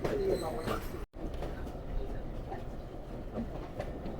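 Sialkot Express on the Lahore to Sialkot route rolls onto a station loop line, a steady rumble with faint clicking of wheels over rail joints and a brief dropout; birds call lightly nearby and someone speaks over it.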